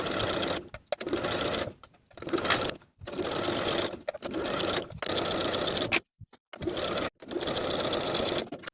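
A sewing machine hems the sleeve ends and bottom edge of a ruched t-shirt, running in six or seven steady bursts of stitching separated by short pauses, close and clear with no talking.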